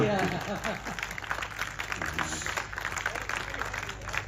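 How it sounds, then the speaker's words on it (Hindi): Thin, scattered applause rises from the audience at a Hindi poetry recitation, faint and sparse, with a voice speaking over it. "तालियां कम है।"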